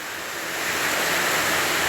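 Heavy rain roaring as a dense, broad wash of noise that grows slightly louder and holds steady, close to the microphone.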